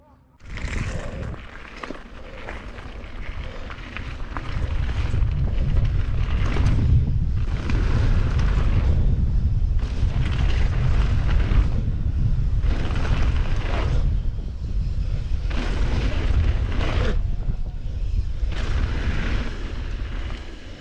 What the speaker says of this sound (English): The wind started to pick up and the jumps were crumbling apart and out of shape.